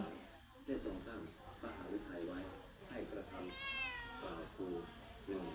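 A cat meows several times outdoors in a rural morning setting, its rising and falling cries mixed in with a person talking throughout.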